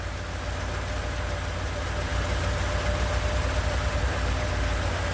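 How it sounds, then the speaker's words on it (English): A running engine idles steadily after setup and testing, a continuous low mechanical drone with a faint hum and no change in pace, heard close with no talking. "I'm actually pleasantly surprised with the idle and stuff. The engine is running fairly smooth"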